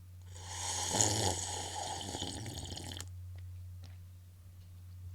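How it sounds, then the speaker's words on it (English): Water being drunk right up against a microphone, with wet gulping and swallowing noises for about three seconds over a steady low hum, then a quieter stretch with faint clicks. "Let me drink water really close to the mic."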